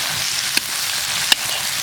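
Cured pork being stir-fried with garlic sprouts in a rural Shaanxi kitchen, a steady close sizzle and hiss of frying filling the pan, with two brief sharp clicks of stirring against the wok, no talk.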